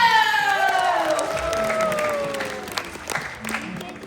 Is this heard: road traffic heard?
no